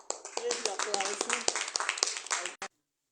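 An audience at a book presentation in Oruro claps, producing dense, lively applause that carries on for about two and a half seconds and then cuts off abruptly into silence.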